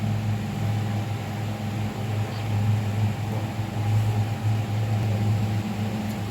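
A steady, droning motor hum runs without pause, a kitchen mixer grinder whirring continuously at close range while grinding coriander chutney.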